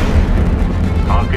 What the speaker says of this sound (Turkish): Kalkış başarılı.